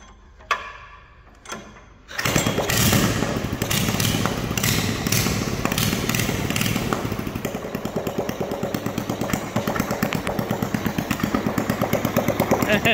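A couple of sharp pulls, then a small four-stroke Briggs engine on a snowmobile with no exhaust catches and runs loudly with a fast, even putter that continues to the end.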